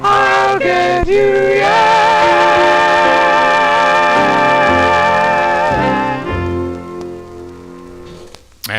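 A 1950s vocal group record by The Diamonds on the Atlantic label plays, sustained harmonized voices over backing instruments, loud and full, fading toward the end.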